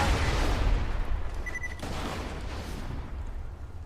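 A grenade blast and gunfire in the PC shooter Borderlands 2, a loud rumbling burst at the start that fades into a low, ongoing roar, with no talking.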